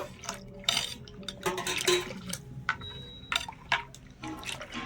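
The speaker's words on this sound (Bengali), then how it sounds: "এখানে আমি আরো হাফ কাপ মতন দিয়ে দেব জল ভালো করে মিশিয়ে নেব" Water is added to a rice flour batter and mixed by hand in a bowl, with irregular wet sloshing, liquid splashes and clinks of a utensil against the vessel, close and fairly quiet. No talking.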